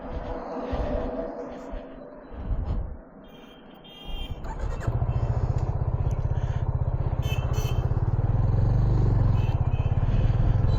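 A Yamaha FZ 25 motorcycle on a test ride rumbles steadily at close range, starting with some roadside noise and then a strong, even engine drone and wind buzz for the last six seconds, with no talking.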